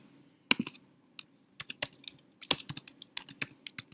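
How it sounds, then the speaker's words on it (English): Keystrokes on a computer keyboard while entering an artist's name into a citation form, quick irregular clicks in short bursts with brief pauses, close and fairly quiet, no talking. "So we're going to type that in."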